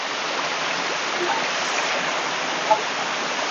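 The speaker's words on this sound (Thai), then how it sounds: "เราถึงม่านน้ำตกด้านล่างแล้วนะครับ" Lower tier of Tat Yai waterfall in Phetchabun, a dense, constant roar of pouring water close by, loud and unbroken throughout, with a brief faint voice near the end.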